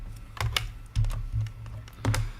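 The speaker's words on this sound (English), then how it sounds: "Now I hear clicking on and off, and that concerns me." Computer mouse clicking quietly in a room, a few sharp, irregular clicks in small bursts spread across a couple of seconds, with no talking.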